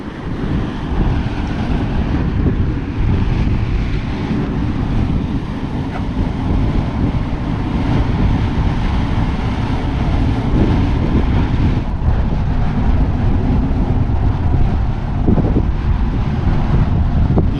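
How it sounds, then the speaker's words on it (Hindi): Strong wind blows at a natural gas fire site near Baku, a loud, continuous roar and buffeting against the microphone that lasts throughout with no talking. "ये दरअसल हवा चल रही है उस साइड से इधर को"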